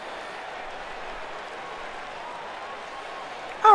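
Crowd at a wrestling event clapping, a steady wash of applause held at an even level throughout, with a voice starting to talk at the very end.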